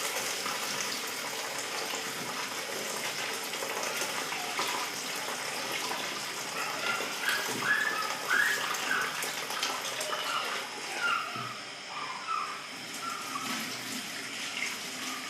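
Rice being washed in water in a kitchen, steady splashing and swishing of water with occasional clinks, moderately close and continuous without speech.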